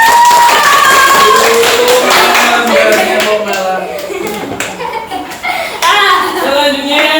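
A group of schoolchildren clap their hands together in a classroom, a loud burst of brisk, uneven clapping up close that fades slightly midway, with children's voices and chatter mixed in throughout.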